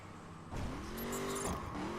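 Ford Raptor truck engine in The Crew racing game, a sudden rising rev that holds a steady droning pitch and then swells again, close and fairly quiet.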